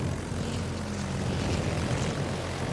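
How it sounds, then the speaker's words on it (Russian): Aircraft engine droning steadily in the World of Warships naval battle game, a fighter plane taking off from a Nakhimov aircraft carrier, with a constant loud propeller hum and no voices. "Истребитель взлет произвел"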